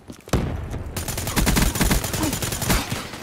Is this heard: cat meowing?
no